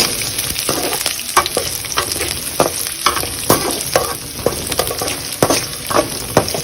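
Ingredients for lemon rice sauté in a hot pan with a steady loud sizzle, broken by repeated scraping stirs from a spoon throughout.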